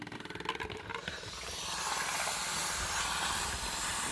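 A FEPPO 2-in-1 steam mop starts with soft sputtering clicks, then settles into a steady, close, broad hiss of escaping steam, with no one speaking.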